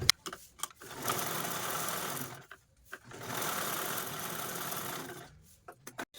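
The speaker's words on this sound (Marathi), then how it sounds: "तर चला मी लगेचच स्टिच पण करून घेते या पद्धतीने" A sewing machine stitches across the corners of old lace in two long bursts of steady, close whirring, separated by short pauses and a few brief clicks.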